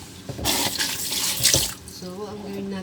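Water splashing into a pan of potatoes, a strong rushing pour up close that eases off toward the end, with a faint tonal hum trailing underneath; no voices.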